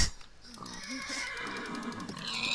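A horse neighs in a video game, a whinny rising over game background noise and a voice talking, fairly near and moderately loud.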